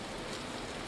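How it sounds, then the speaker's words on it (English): Hail falling in the Vintage Story video game, a steady dense patter of small pellets across a broad band, constant and unbroken for under a second with no voices. "A little bit of hail."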